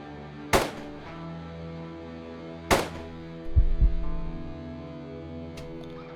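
Two sharp, loud gunshots spaced about two seconds apart in the tactical game Quasimorph, followed by a low rumbling thud, over a quiet ambient background with no talking.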